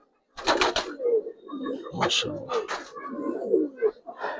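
Pigeons coo at close range, among them Budapest and Giribaz silver Pakistani high flyers bred for flight, their low calls repeating through the clip while someone talks over them.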